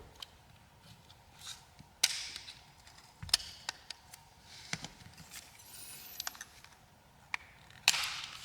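Plastic clips on the back panel of an AT&T Motivate Pro 5G (SN509A) phone come loose as the panel is pried off, giving a handful of sharp, faint clicks spread apart over a quiet background.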